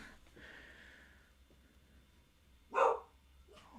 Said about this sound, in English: What the hell are they still barking for?